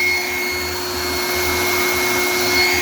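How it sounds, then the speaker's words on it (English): A shop vac sucks old brake fluid out of the brake lines of a 1999 Mercury Mountaineer through a separator bottle, giving a steady, loud, close motor whine with a constant high tone and no talking. "It's vacuuming out the brake fluid."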